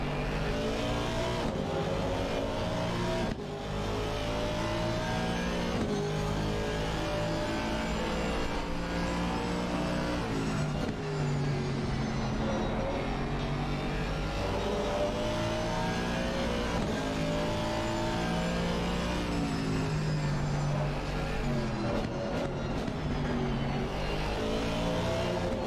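Aston Martin and BMW race cars roar past at Imola during a two-hour endurance race, engines droning and revving continuously at high pitch, loud and sustained with shifting tones as cars approach and pass.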